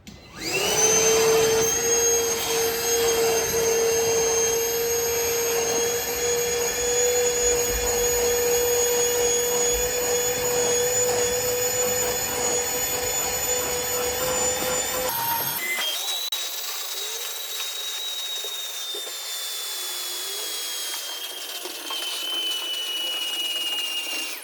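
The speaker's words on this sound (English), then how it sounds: "Let me have your vacuum and I'll vacuum this shit out before we put it in." A vacuum cleaner cleans out the center console of a Ford F-150 pickup truck, making a loud, steady, close whine that runs the whole time. Partway through, its pitch drops and the tone changes as the nozzle moves. No one talks.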